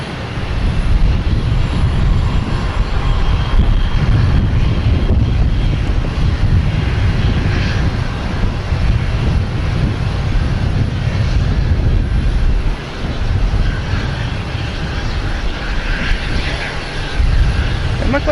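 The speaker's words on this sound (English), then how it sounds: "We have a Delta taking off, an E175 heading to Savannah." A Delta Embraer E175 jet taking off at Boston Logan Airport, a loud, sustained engine roar that stays close and heavy for the whole stretch with only slight swells.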